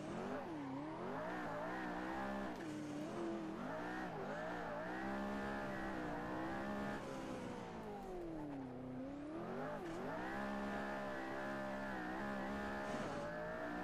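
A McLaren P1 drives in Assetto Corsa, its engine note rising and falling through gear changes and revs, with a long smooth climb and dip midway and continuous whining harmonics throughout, no voices over it.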